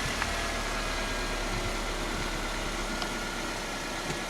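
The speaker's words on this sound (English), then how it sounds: "Let it come back down to idle." Toyota Corolla engine idling after an oil change, a quiet, steady low hum close by with a few faint ticks and no voices.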